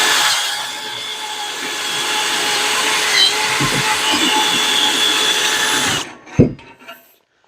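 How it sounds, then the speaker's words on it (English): A handheld power drill spins a square file to taper and ream holes in shopping cart metal, giving a steady close whine for about six seconds before stopping. "I'm going to use a drill to taper these off."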